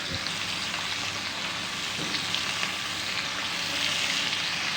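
Bitter gourd slices fry in hot oil in a pan, giving a steady, close, bubbling sizzle that holds at an even level throughout.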